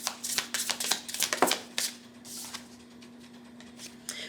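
Tarot cards are handled and shuffled in quick bursts of crisp flicks and slaps during the first two seconds, then go quieter with a faint steady hum underneath.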